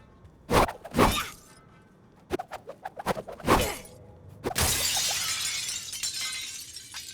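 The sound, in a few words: glass shattering in the video game Suicide Squad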